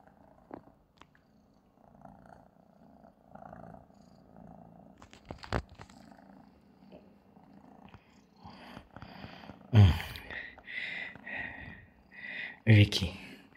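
A cat purrs indoors in a living room, a soft, steady low rumble running throughout while a person speaks gently to it, with a few louder close handling noises near the end.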